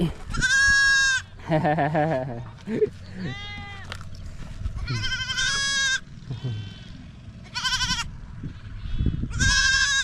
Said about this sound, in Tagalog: Ang cute ang kambing nito.